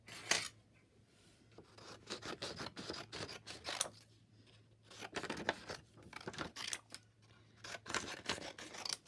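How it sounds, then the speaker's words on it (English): Scissors snip and slide through fabric for an Easter mini journal craft project, several close, crisp cuts coming in short irregular bursts with brief pauses between them. "Just let me cut that one out."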